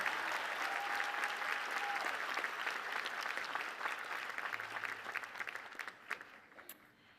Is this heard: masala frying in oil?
no